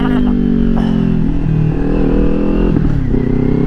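A 2022 Kawasaki Ninja 400 with a LeoVince slip-on exhaust roars loud and close, revving hard with rising and falling engine pitch as it accelerates for a wheelie.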